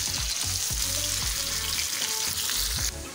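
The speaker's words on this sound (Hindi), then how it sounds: "ऑयल में मैं सबसे पहले प्याज डाल देती हूँ और प्याज को हमको ज़्यादा नहीं पकाना है" Onions fry in oil for baingan ka bharta, a loud, continuous hiss and crackle with intermittent low knocks from stirring. No one speaks.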